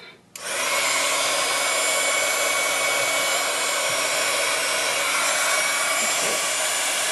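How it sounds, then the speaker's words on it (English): Heat embossing tool switched on and blowing hot air during rubber-stamp card making, a loud steady close-up whoosh that starts abruptly after a brief click and runs on without pause. "the other thing that you need is the heating tool"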